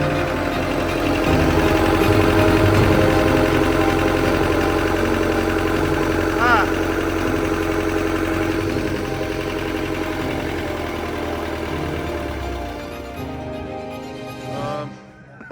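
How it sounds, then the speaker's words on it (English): A steady diesel engine idle from a Land Rover Defender 110 300Tdi drones throughout, with dense low harmonic rumble, then cuts out near the end as the motor stops. "the wire that was meant to turn the engine off doesn't turn the engine off"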